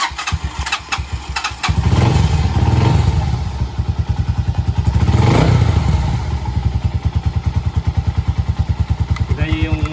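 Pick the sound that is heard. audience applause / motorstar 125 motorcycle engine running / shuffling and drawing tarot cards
motorstar 125 motorcycle engine running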